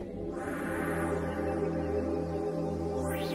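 Water choir patch from the AIR Music Xpand!2 synth played on a keyboard, a sustained airy choral chord with shimmering overtones and a rising sweep near the end, alone and clear.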